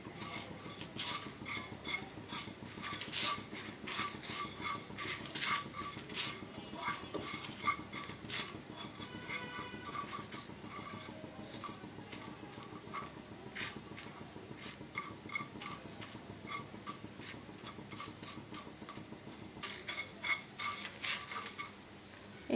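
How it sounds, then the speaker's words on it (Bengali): Spices being lightly dry-roasted in a pan for a sour, spicy and sweet hog plum pickle, with steady metallic scraping and clinking of a spoon stirring against the pan, close and continuous throughout. "এই মশলাগুলো আমি হালকা ভেজে নেব"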